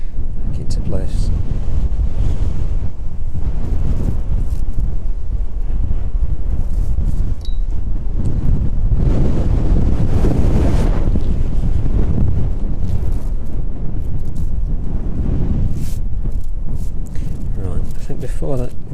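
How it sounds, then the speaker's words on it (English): Strong wind at an airport buffets the microphone with loud, continuous low rumbling gusts that swell and ease over the whole stretch. "The wind is quite ferocious."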